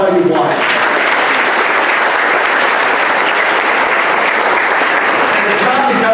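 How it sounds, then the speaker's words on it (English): A church congregation at a Sunday service breaks into loud, sustained applause that swells quickly and holds steady for several seconds, filling the room. "Applaud for them, then I'll tell you why."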